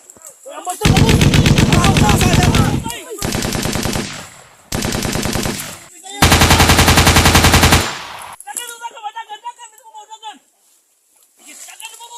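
Bursts of gunfire erupt in an ambush, loud automatic volleys in several long blocks with short gaps, then fade into scattered trailing sounds; voices shout over it.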